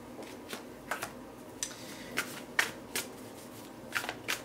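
Tarot cards shuffled by hand during a reading, giving a run of soft riffling bursts and light flicks spaced irregularly, close and fairly quiet with no talk.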